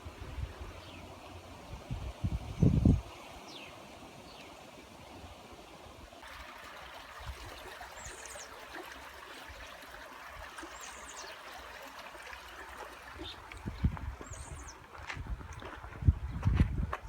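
Water flows steadily from a tapped side channel of a water source near an aqueduct in Peru, a soft continuous rushing trickle heard from nearby with occasional louder knocks and outdoor background.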